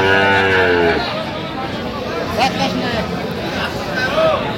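A loud, close cow moo opens the clip and fades out after about a second, followed by people talking and general crowd murmur at a cattle market in Aftabganj, Dinajpur.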